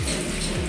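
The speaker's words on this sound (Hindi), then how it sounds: "अभी पानी दे रहा है सभी पौधे को" Water from a garden hose poured onto potted plants, a brief, steady splashing rush with no talk.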